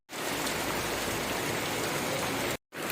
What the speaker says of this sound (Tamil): மழை வேறு பிச்சுட்டு ஊற்றுது.